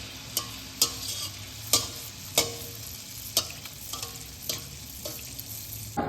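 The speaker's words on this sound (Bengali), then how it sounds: "মালপোয়াটা ভেজে নিচ্ছি। তেলটা উপর দিয়ে দিতে হবে।" Malpua made from dry rice flour and jaggery fry in oil with a soft, even sizzle, punctuated by sharp clicks and splashes as oil is spooned over them at a steady pace.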